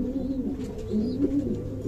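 Racing pigeons coo softly in a loft, several low rolling coos in quick succession, fairly quiet and close.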